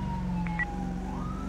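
An ambulance siren wails in a police video game, its steady electronic tone gliding upward near the end over a constant low engine-like hum, fairly loud and close for a brief moment.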